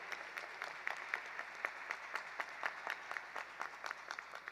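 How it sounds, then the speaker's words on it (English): A graduation ceremony audience applauds steadily at a distance, the clapping sustained and even throughout with no talk. "thank you for giving them a round of applause"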